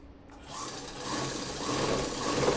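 A sewing machine runs continuously, stitching the second side seam of a salwar, its steady whirring motor growing slightly louder as the stitching goes on, with no talking.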